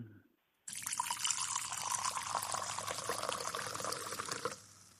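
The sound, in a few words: pouring Merlot wine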